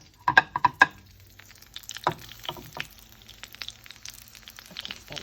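Eggplant slices frying in a pan with mozzarella and Parmesan: a few sharp clinks and scrapes of a utensil at the start, then soft, faint crackling sizzle with occasional light taps.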